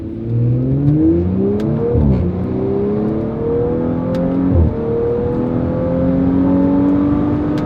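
A 2019 Audi RS5 Coupe accelerating hard, its engine revving up through rising tones with two quick gear changes, loud and close, with no talking.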